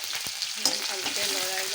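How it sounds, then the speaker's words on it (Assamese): Chopped onion dropped into hot oil with bay leaf in a pan, a steady close sizzle with a sharp clatter as it goes in and brief stirring scrapes. "তাৰপাছত ইয়াতে কাটি থোৱা পিঁয়াজ অকণমান"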